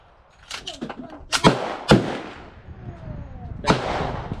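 Gunshots at an outdoor shooting range, a few sharp reports with echoing tails spread over a few seconds, moderately loud and not overlapping speech.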